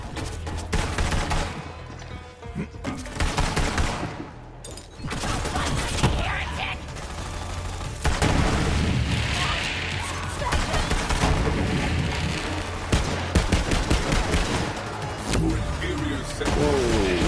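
Gunfire in the video game Borderlands 3, dense bursts of shots and mechanical clatter running almost without pause at close range, mixed with game effects and a voice talking over the action.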